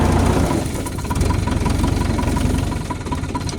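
Steady, rumbling idle of a Leyland farm tractor fitted with a seven-tine cultivator, a loud continuous low chugging with regular knocking pulses, close by and with no voices.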